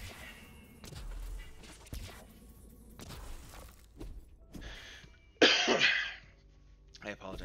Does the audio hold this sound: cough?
yes